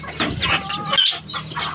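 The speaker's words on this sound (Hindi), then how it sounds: "ये वाली मुर्गी" Hens cluck close by at a home poultry coop, with several quick, overlapping clucks and squawks crowding the short moment and no talk.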